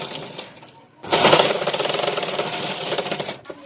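A sewing machine stitches fabric for a collar blouse: a brief faint whir, then a loud, steady rapid mechanical chatter for over two seconds before stopping.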